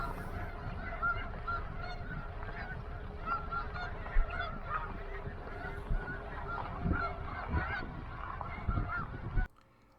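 A dense chorus of geese honking at a wildlife refuge with wetlands, a steady overlapping din of many birds near and far, with a few louder calls standing out before it cuts off.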